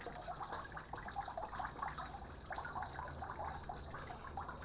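Water trickles and splashes steadily from a garden water unit, a close, continuous wet hiss with small irregular spatters.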